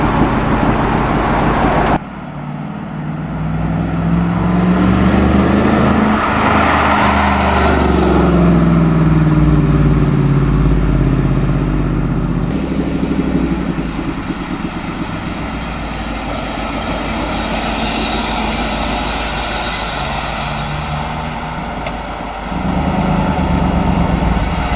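A Ford Mustang Shelby GT500 engine drones loudly and steadily while driving, with engine note shifts and road noise throughout and no talking.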